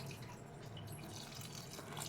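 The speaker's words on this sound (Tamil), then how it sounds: "கொஞ்சமாக தண்ணி ஊற்றிக்கலாம்." A little water poured into a cabbage gravy while cooking, a soft steady trickle and splash heard close up, faint and continuous for a couple of seconds.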